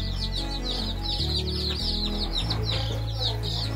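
Native gavran chickens and chicks on a poultry farm near Wani in Yavatmal district: a dense flock of close, high-pitched chick peeps continues over a low droning hum.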